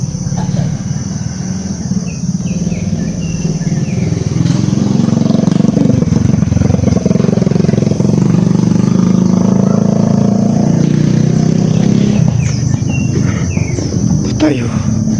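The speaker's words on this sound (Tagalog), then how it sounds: "ang ingay ng motor dito, no?" A motorcycle runs along a mountain road, its engine a loud, continuous rumbling drone that rises and falls as it rides, with a voice talking over it at moments.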